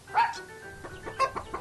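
Farm hens cluck in a short sound effect for a children's story, a few soft, close clucks spaced irregularly against a quiet background.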